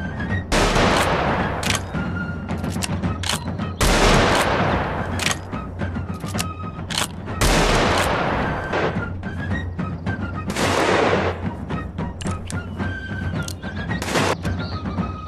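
Black powder guns fire in a Roblox Wild West game, a series of loud booming shots spaced a few seconds apart, each followed by a long decaying rumble, with smaller clicks between.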